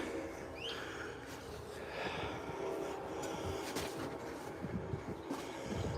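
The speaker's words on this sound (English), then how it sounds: "But the train's coming." A train rolls past in a mountain setting, a steady faint rumble and clatter of wagons continuing throughout, with a brief high horn-like tone near the start.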